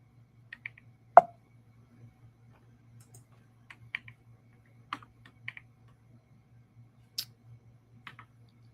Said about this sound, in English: It's my keyboard. It's built for a different operating system.